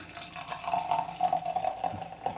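Saco River Brewing Flip Flop beer pours from a freshly opened container into a glass, a soft continuous gurgling trickle heard up close and fairly quiet, with no talking.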